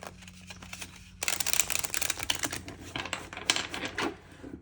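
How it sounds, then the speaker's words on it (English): Tarot cards being shuffled by hand, a dense run of crisp riffling and flicking that starts after a quiet first second and continues steadily, close and fairly loud, with no talking. "So we're just going to shuffle a few times while we get into the energy."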